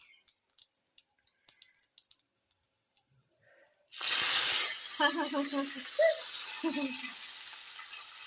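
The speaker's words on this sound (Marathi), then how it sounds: "कढीपत्ता टाकल्या कसा येतो आवाज" Curry leaves are dropped into hot oil for a tempering: a few sharp clicks and pops first, then a sudden loud burst of sizzling that settles into steady hissing with scattered crackles.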